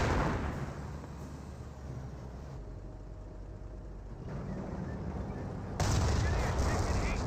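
Gunfire and mortar fire from a mortar half-track in the World War II strategy game Company of Heroes make a dense, continuous wash of shots and rumbling blasts, with a sharper surge of fire near the end.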